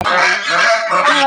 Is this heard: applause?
no